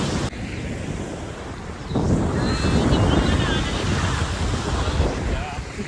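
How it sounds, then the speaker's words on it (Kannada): Strong waves roll and break on a beach at Mangalore in a constant heavy roar, with buffeting wind on the microphone and a voice faintly mixed in. "ಅಲೆ ಅಂತೂ ತುಂಬಾ ಜೋರಾಗಿ ಬರ್ತಾ ಇದೆ"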